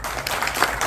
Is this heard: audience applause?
yes